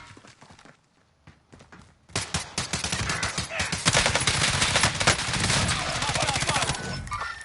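Video game gunfire bursts in loud and dense after a quieter opening, with rapid automatic shots hammering on nearly nonstop.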